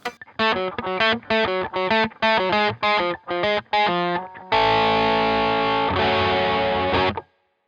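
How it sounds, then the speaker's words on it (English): Electric guitar through a Boss Blues Driver set for light crunchy distortion, playing a choppy run of short stabbed notes that ends on a long sustained ringing chord before cutting off. "I just prefer to use the blues driver and kind of work with whatever I can get out of that"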